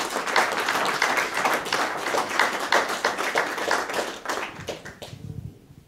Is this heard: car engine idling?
no